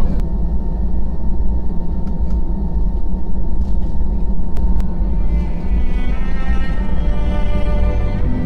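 Steady loud cabin roar of a Batik Air passenger jet landing at Yogyakarta International Airport, a constant low rumble with brief clicks and tones rising over it near the end.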